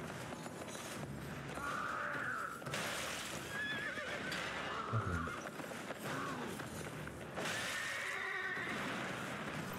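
A horse whinnies and neighs repeatedly in the video game Elden Ring after being slapped, loud and close, with several drawn-out calls over a steady background of game noise.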